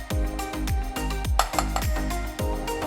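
A whisk beats a cornstarch and vegetable broth slurry in a bowl, a quick, regular run of close clinking strokes against the side, about two per second, heard alone.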